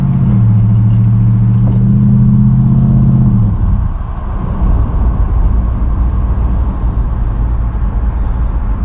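A loud cheap aftermarket car exhaust revs to a deep droning roar, then drops back to a lower, steady rumble. Heard close, with no talking.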